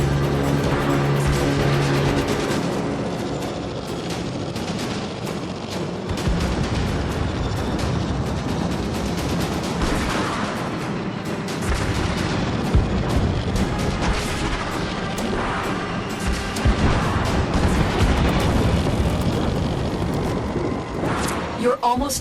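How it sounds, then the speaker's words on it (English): Heavy incoming fire from a Fomorian warship in Warframe, a continuous roar of booms and crashing impacts that rumbles throughout, with voices speaking over it. "Incoming fire from the Fomorian."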